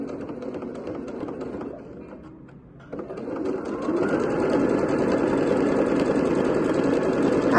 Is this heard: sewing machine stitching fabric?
yes